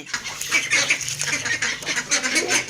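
Ducks kept with free-range chickens quack and squawk loudly and close by, many overlapping calls in a busy continuous chorus.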